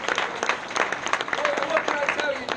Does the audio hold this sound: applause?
yes